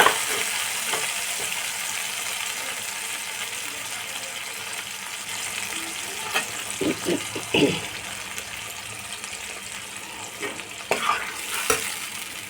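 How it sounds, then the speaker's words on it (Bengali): Onion, tomato and Kashmiri chili masala sizzles steadily in a pan over low to medium heat, with a spoon stirring and scraping in irregular bursts near the end. "হালকা আঁচে আমি মশলাটা কষাবো।"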